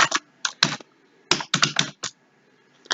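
Quick clusters of clicky keystrokes on a computer keyboard while text is entered in video editing software, tapping in short bursts separated by brief pauses, close and clear with no voice.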